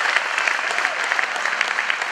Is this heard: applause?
yes